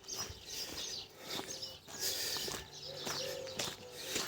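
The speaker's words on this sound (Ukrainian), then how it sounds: "Пташки співають," Birds chirp and coo outdoors at a modest distance, with scattered calls over a soft, steady background.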